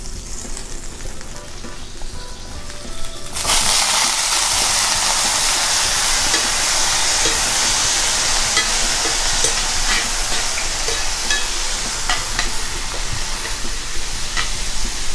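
Fresh apples fry in melted butter in a pan, a loud, steady sizzle that starts abruptly a few seconds in and continues without pause, with no talk over it.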